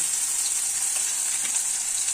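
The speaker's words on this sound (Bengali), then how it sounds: "পেঁয়াজটাকে একটু লাল লাল করে ভেজে নেব।" Chopped onion fries in hot oil with nigella seeds and dried chili, producing an even, bright crackling sizzle that stays steady and close for the whole stretch, with no talk.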